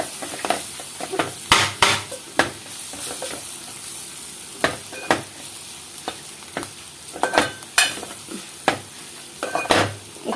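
Bottle gourd coconut curry stirred in a pan, with repeated scraping strokes of a spoon in an irregular rhythm over a steady, close sizzle and no talking.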